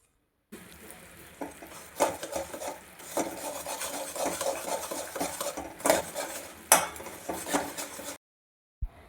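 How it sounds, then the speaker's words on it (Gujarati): A spoon stirs and scrapes jaggery melting in hot ghee in a pan for peanut chikki, making continuous close scraping and clinking with sharper knocks against the metal, heard alone for about eight seconds. "બરાબર રીતે ગોળને હલાવતા જશું."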